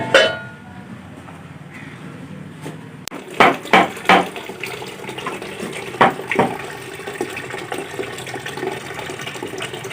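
Water runs and splashes into a cooking pot set on a second stove burner to boil for biryani, a steady pour with several louder splashes and clanks partway through, close by and with no talking.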